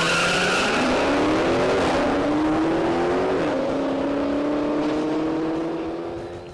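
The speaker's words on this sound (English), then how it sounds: "we couldn't make a Challenger Hellcat video without taking it to the track" A 2015 Dodge Challenger SRT Hellcat driven hard on a race track, its supercharged V8 roaring loud and close as it revs through rising gears, with tires squealing and skidding through the run before the sound eases off at the end.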